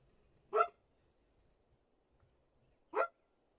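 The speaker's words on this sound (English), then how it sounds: "Okay, sorry about the dog." A dog barks twice, each a single sharp bark about two and a half seconds apart, fairly close indoors against a quiet background.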